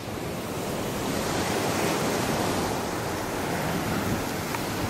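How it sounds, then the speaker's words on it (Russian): Surf of the Ligurian Sea rolling onto a beach near Genoa, a continuous full-bodied wash of breaking waves with some wind rush, steady and fairly close throughout, with no voices. "Вот оно, Лигурийское море."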